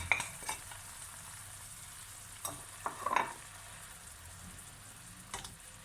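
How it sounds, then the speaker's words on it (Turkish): Mushrooms that have released their juices sizzle softly in a pan as vegetables are added, with a few clattering stirs and utensil knocks over a low, steady fry. "Şimdi önceki sebzelerimi üstüne ilave ediyorum."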